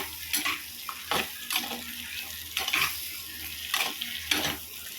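Eggplant, drumstick and mango being sautéed in a clay pot, a quiet sizzle under repeated scraping stirs that come in short bursts about once a second.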